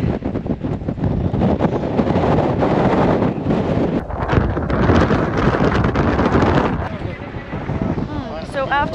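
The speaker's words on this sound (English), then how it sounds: "Very windy up here, very cold." Strong, cold wind buffets the microphone on the summit of Acatenango volcano in Guatemala, in a loud, continuous roar of rumbling gusts that barely lets up.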